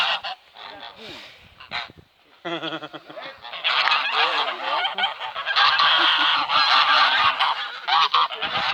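Domestic geese on a farm in the Loire honk in loud, repeated bursts, several birds calling close by, the noise building and continuing almost without pause.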